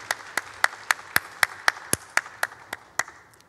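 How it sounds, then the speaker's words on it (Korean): A church congregation claps together in a steady, even rhythm, about four claps a second, bright and moderately loud in a reverberant hall; no speech. "영광의 박수 올려드리겠습니다."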